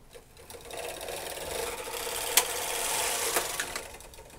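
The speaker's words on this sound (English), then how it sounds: "So we'll knit 1 row." Brother 260 knitting machine carriage sliding across a full row of needles, a close, steady whirring clatter that swells and fades over a few seconds, with a couple of sharp clicks along the way.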